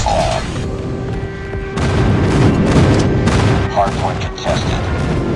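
Enemy airstrike explosions in Call of Duty Mobile, deep booming blasts mixed with gunfire, growing heavier partway through, with a game voice announcer heard at moments.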